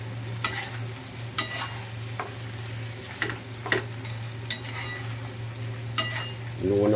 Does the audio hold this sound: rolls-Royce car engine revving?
no